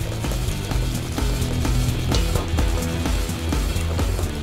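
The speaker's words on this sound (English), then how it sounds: "We're going to stir this while we add it so it doesn't cook the egg yolks." Chocolate espresso mixture being stirred into a bowl of egg yolks and sugar, giving steady, busy scraping and clicking strokes close up with a faint low hum beneath and no talking.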